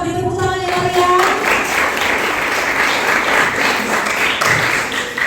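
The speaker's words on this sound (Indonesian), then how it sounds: "Kita beri tepuk tangan ya Maria." An audience claps at an industry programming class outreach event, a full sustained round of applause after a brief tonal sound at the start, steady and fairly loud throughout.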